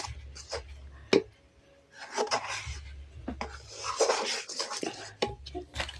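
Chana dal halwa with sugar being stirred in a pan: repeated close rasping scrapes of a spoon across the pan bottom, with occasional sharp knocks between strokes.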